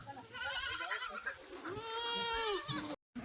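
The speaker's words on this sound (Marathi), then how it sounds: "जवळपास 17-18 शेळ्या तर गाबने आपण एकदम टॉप क्वालिटीच्या बांधलेल्या आहेत." Kathiawadi goats bleat repeatedly inside a shed where pregnant does are tethered in a row, their wavering calls overlapping and loud against a steady background hum before cutting off abruptly.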